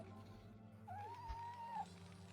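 A pet cat lets out a single drawn-out meow partway through, fairly close but soft, over a quiet background hum with no talk.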